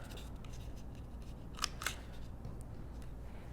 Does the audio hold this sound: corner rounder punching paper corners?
yes